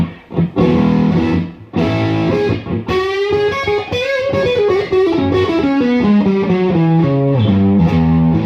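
A distorted electric guitar played through a vintage bass amp with Celestion speakers plays a thick, loud riff of sustained chords and bending notes, gritty and saturated.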